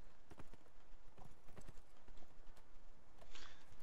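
Hooves of a horse mount in the Neverwinter fantasy role-playing game clop in a quick, irregular series of crisp hits over a low background hum, with no talking.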